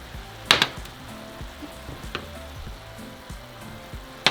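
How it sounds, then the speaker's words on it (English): Browned ground meat for a Mexican pizza fries steadily in a pan, a constant close sizzle broken by a few sharp utensil clinks against the pan, with no talking. "So just continue cooking your meat"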